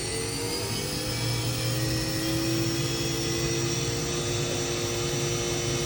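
A 2008 HURCO VM-1 CNC vertical machining center spindle runs at high speed, a steady loud whine with layered tonal hum holding constant throughout, no talking.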